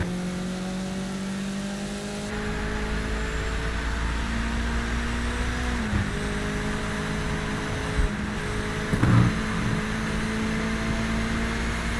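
A race car engine in the Project Motor Racing video game on Xbox Series X, heard from inside the cockpit: a loud steady howl that climbs, drops sharply at gear shifts and climbs again, with no talking.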